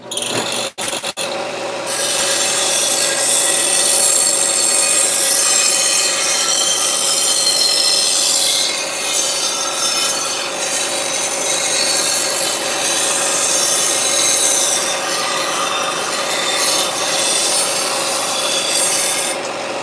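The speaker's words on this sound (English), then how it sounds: "The rest I'm sure I could do with the belt sander. Loud noises!" A belt sander grinds metal armour in a garage, giving a loud, continuous, close-up abrasive roar with a steady high whine that holds for nearly twenty seconds after a brief start-up stutter. No voices are heard.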